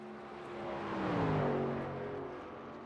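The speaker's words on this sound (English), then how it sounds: "you might hear these drivers shifting down in the 3rd gear, trying to get a better launch off the corner" Race trucks on the Pocono Raceway circuit in the iRacing simulator, engine tones rising and falling as a driver downshifts to third gear out of a corner. A single steady engine drone swells to a peak mid-way, then eases off.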